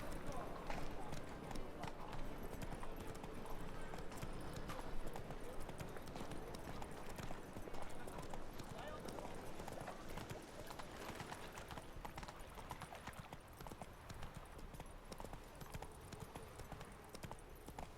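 Roach the horse galloping in The Witcher 3, a rapid steady drumming of hooves held through the whole stretch with game ambience around it and talk over the top.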